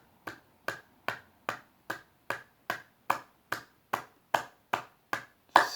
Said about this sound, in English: And then we'll just clap.